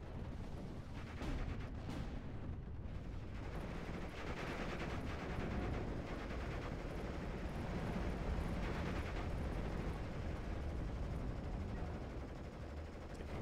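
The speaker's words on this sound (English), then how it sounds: "Here I'm just bombarding this area of tree because I think some stuff is coming" Artillery bombarding a tree line in Steel Division: Normandy 44, a dense, continuous roar of distant explosions and gunfire that holds steady throughout, no voice over it.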